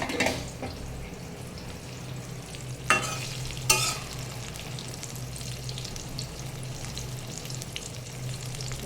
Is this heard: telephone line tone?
no